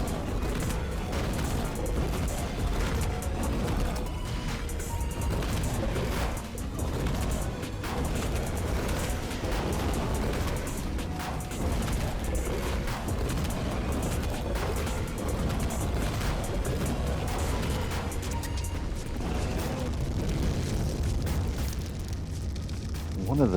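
Breath and area-of-effect special attacks blasting creatures in ARK, a steady, rumbling wash of explosive bursts and booms throughout, with a voice talking over it.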